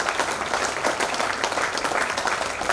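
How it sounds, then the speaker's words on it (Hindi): Audience applause fills an auditorium at a heart club medical meeting in Indore, a dense, steady wash of many hands clapping without pause and with no voices over it. "बहुत तालियां डॉक्टर विजय पांडे सर"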